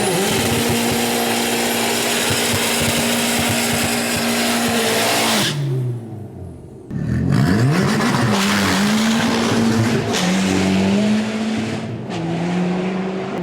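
Nissan Micra drag racing at Santa Pod, a loud close engine screaming at high revs through the gears with sharp pitch drops at each shift, a brief lull, then hard acceleration again.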